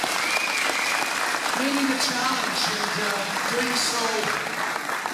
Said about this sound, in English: Let's have a round of applause for the candidates for